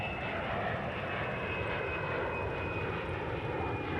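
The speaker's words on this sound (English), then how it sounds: "looks like the plane is passing by again" Airplane passing in Farming Simulator 19, a steady, loud engine drone that fills the whole stretch with broadband roar and no gaps or talking.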